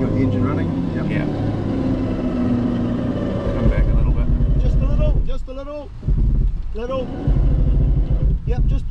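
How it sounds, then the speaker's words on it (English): A 4WD vehicle's engine idles and rumbles steadily up close in a creek-crossing setting, with short bursts of speech over it partway through. "got the engine running?"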